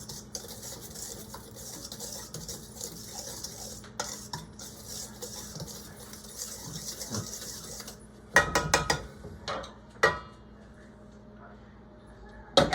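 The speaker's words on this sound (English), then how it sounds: "I'm going to just kind of whisk that all together." A whisk stirs sugar and batter ingredients in a bowl, a steady scraping swirl at close range, then breaking into a few sharp clinks and taps against the bowl.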